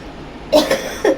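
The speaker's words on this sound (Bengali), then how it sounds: "দেখেছ আবার কাশি হচ্ছে বেশি উত্তেজিত হলে" A person coughs in three short, harsh bursts close by, with a slight pause between the first two and the last.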